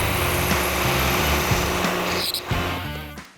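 Milling machine cutting a billet aluminum block to final dimension, giving a steady loud whining roar that holds nearly unbroken, with a brief dip near the end.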